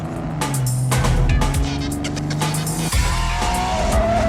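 A car chase from the James Bond film GoldenEye, with roaring engines, repeated sharp tire squeals and skids, and rising pitched revving layered loudly over dramatic music throughout.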